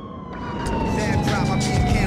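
A police car siren in the video game GTA 4 drones steadily in the background with traffic noise, fairly close and continuous.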